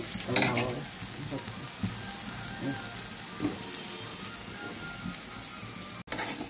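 Soft frying sizzle in a pan while cooking for shukto, fine crackling with occasional stirring scrapes, fairly quiet and close.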